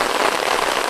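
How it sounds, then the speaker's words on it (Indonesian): Heavy rain pours over a small hut amid rice fields, a loud, steady broadband hiss of drops driven by strong wind, with no talking. "selain hujan ini angin kencang banget, ini anginnya kencang banget"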